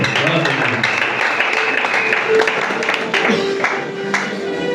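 A church congregation applauds in a sustained wash of clapping that carries through, with voices and other crowd sounds mixed in.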